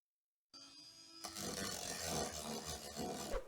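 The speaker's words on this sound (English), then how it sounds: "So let's do that little bit of sanding." Sandpaper rubs against a sculpture in quick, continuous back-and-forth strokes, close and fairly quiet, after a brief silence.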